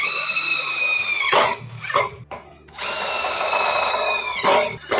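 Power drill with a tipped bit driving screws to fix an electrical box against a steel post, two long, loud whining runs split by short clacks and pauses, close to the listener.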